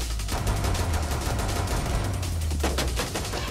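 Rapid automatic gunfire in the tactical shooter Rainbow Six Siege, a dense stream of loud close shots with heavy low booms, continuous for a few seconds with no talking.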